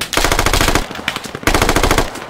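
Loud, close machine gun fire in the tactical shooter video game Squad, heard as two sustained rapid bursts split by a brief pause.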